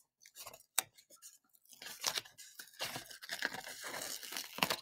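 A paper craft sticker is peeled from its backing ray by ray, giving a series of close crinkling, tearing rips with short pauses between them. Nobody speaks.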